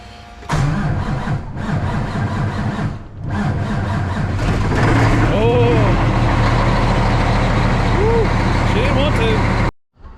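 A 6.7 Cummins diesel truck engine cranks over and fires up, then settles into a loud, close, rumbling idle with a few rising revs before cutting out abruptly near the end.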